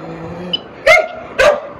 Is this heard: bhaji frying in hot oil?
no